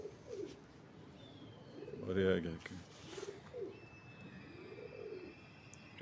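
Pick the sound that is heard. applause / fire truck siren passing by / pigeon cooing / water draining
pigeon cooing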